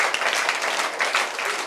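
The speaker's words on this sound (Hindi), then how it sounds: "आप एक बार फिर से मेरे लिए तालियां बजा सकते हैं।" Applause from an audience at a Buddhist vihara gathering, a short, fairly loud wash of many hands clapping together, steady throughout and free of speech.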